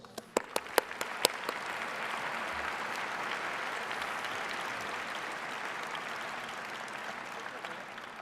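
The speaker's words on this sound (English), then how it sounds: "deserve a big round of applause" An award ceremony audience gives a sustained round of applause, opening with a few sharp, separate claps before swelling into a steady, fairly distant wash of many hands that carries on evenly.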